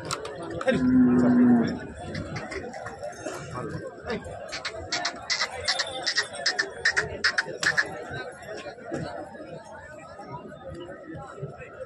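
A single low cow moo near the start, then a busy crowd of people talking over clattering and shuffling at an outdoor bullock market in Pathardi.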